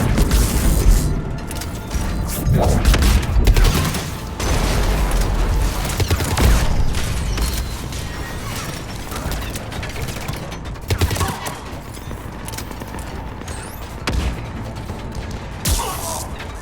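Heavy cannons in the video game Mass Effect 3 fire in repeated booming volleys amid battle mechanisms, loud and dense at first and then thinning into scattered blasts.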